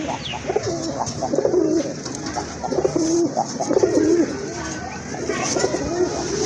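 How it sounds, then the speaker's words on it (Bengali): Pair of silver-coloured pigeons cooing in repeated low throaty phrases, close and clear, over a background of other birds. "মাশাআল্লাহ আরেক জোড়া কবুতর"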